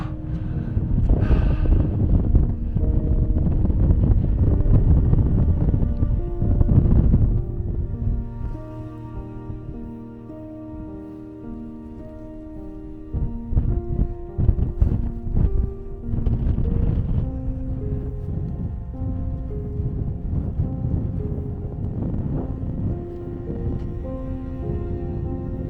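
Strong wind blowing across the summit of Dovška Baba, a mountain peak, gusting and buffeting the microphone in loud, rough rumbles that ease briefly midway before surging again, with no voices.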